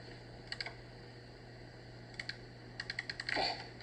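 Short bursts of light keystrokes on a computer keyboard, a few taps at a time with pauses between, quiet over a steady background hum.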